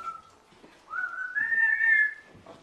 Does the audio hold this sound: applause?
no